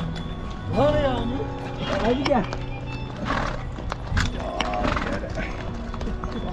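Horses neigh and whinny several times on a mountain trail ride near Pahalgam, Kashmir, with clip-clopping hooves throughout and people talking alongside.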